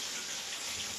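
Water pours into a cooking pot for a chicken bora curry, one brief, steady splashing rush heard alone.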